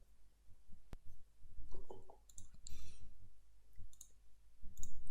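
A computer mouse clicked in a few sharp, quiet clicks scattered over a faint room hum.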